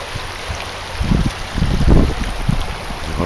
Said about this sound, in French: au milieu de la rivière.